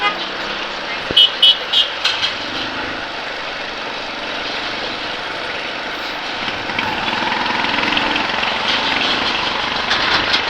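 Dense road traffic on a busy Philippine highway with trucks and trailers, a steady broad engine roar with a few short horn toots early on and the noise swelling louder toward the end.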